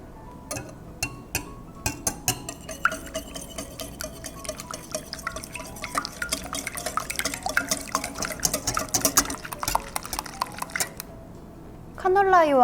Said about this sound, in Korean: 볼에 카놀라유와 달걀을 넣고 거품기로 섞어줄게요.